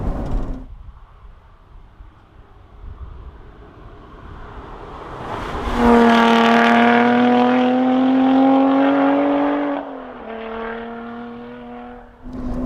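Lotus Exige Cup 430 engine with a titanium exhaust: quiet idle rumble, then a loud, rising rev with strong harmonics for about four seconds, a brief dip and a second shorter rev, heard without speech.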